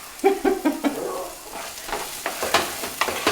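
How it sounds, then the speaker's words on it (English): Onions and chopped meat sauté in a hot pan, giving a crackling sizzle broken by repeated sharp scrapes and clacks of a utensil stirring, close and fairly loud with no voices. "So onions have been sauteed a little bit. I'm gonna go ahead and throw in my chopped meat."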